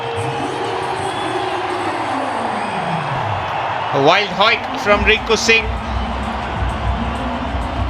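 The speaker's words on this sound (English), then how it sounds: "The crowd's happy and about again." A cricket stadium crowd at an India versus Sri Lanka match roars steadily throughout, a broad wash of cheering that swells slightly while a commentator talks over it.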